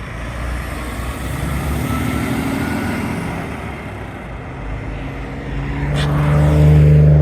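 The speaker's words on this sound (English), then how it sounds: "a tanker truck is having to stop here at the railroad tracks" A tanker truck idles loudly at a railroad crossing on Guadalupe Road, its deep engine rumble steady and close, rising toward the end as the truck moves off, with a brief sharp sound near the finish.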